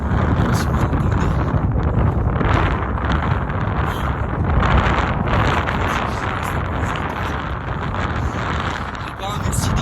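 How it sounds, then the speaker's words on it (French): Strong mountain wind roars and buffets the microphone continuously, a loud low rumble with gusty surges; no clear speech is heard. "Oh, il y a du vent de ouf. Si vous entendez."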